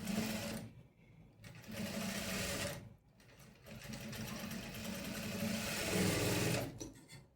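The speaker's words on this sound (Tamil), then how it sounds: "மார்க் பண்ணதுக்கு மேலேயே ஸ்டிச் பண்ணுறேன்" A sewing machine stitches a dart on a three-dart blouse in quick whirring runs: a short burst, a brief pause, a second run, another pause, then a longer sustained stretch of close, rapid stitching.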